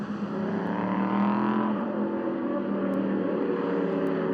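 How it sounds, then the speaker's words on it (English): A Wolf race car with a Ford Coyote V8 engine roars past at a production car endurance race, its loud, sustained engine note rising in pitch. "that Coyote engine sounds amazing."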